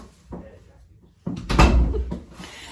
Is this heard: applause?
no